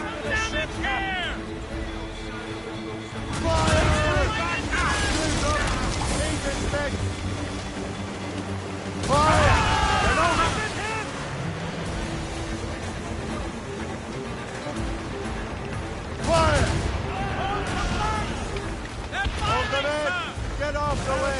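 Warship cannons firing in Assassin's Creed Rogue: a few heavy booming broadsides spaced several seconds apart, loud over constant sea and ship noise, with shouted voices in between.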